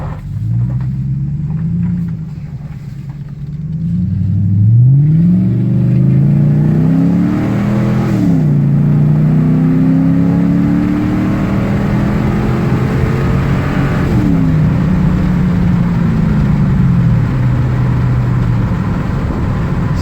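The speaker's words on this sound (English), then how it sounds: "Let's go ahead and here in a second we'll get a" A Ford Super Duty with a 6.2 engine and 4-inch Flowmaster exhaust revs at wide open throttle, loud deep rumbling pulls rising and falling, then holding a steady roar, close and alone.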